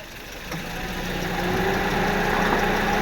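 An engine is running at close range with a steady, rough idle, and its knocking rumble grows slightly louder over a few seconds.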